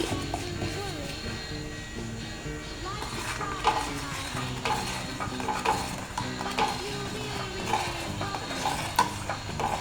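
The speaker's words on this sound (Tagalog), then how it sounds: "haluin na lang natin ng maigi." A gulaman (gelatin) mixture with sugar being stirred in a pot over a gas flame, with repeated scraping and clinking of the spoon against the pot under a soft bubbling hiss, continuous and close.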